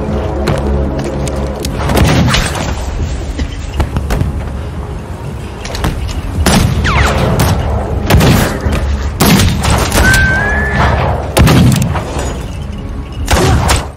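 Gunfire from a film shootout scene, heard as loud booming shots and thuds scattered across a tense soundtrack with a steady low background.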